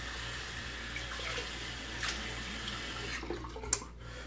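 Water runs steadily from a tap into a sink, a constant rushing hiss with a small clink near the end; ice water filling a shaving bowl.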